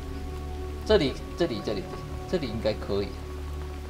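Steady rain hisses evenly throughout a jungle scene in the survival video game Green Hell, while someone talks intermittently over it.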